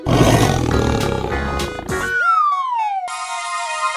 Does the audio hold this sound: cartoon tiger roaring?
yes